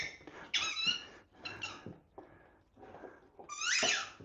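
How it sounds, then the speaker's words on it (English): A dog repeatedly squeezes a squeaky toy indoors, producing several loud, high-pitched squeaks in irregular bursts of two or three close together, with short pauses between them. "And he's happy with his squeaky toy."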